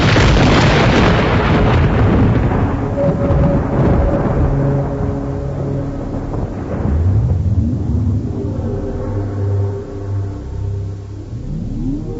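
A heavy thunder crash opens loud and broad, then rolls and rumbles away over several seconds, with lower tonal rumbling surging near the end.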